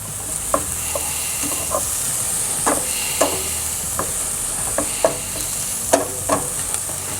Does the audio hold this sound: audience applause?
no